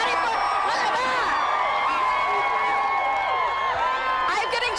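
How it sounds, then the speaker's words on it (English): A large crowd cheers and whoops at the KU Jayhawks championship parade, a steady, loud roar of voices with scattered shrieks that stays dense throughout. "I'm getting chill bumps right now just listening to this crowd right now"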